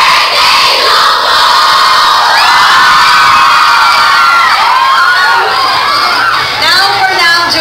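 A loud crowd of fans at a BTS exhibit in Manila cheers and shouts happy birthday together, with high-pitched excited voices and whoops blending into one sustained roar.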